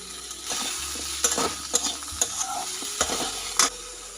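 Flat beans and eggplant with spinach sizzle steadily in a pan while a utensil scrapes and stirs them in repeated, sharp strokes.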